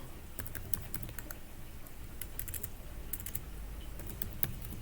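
A computer keyboard clatters as a command is typed, giving a quick run of light key taps in short bursts with brief pauses, quiet and close.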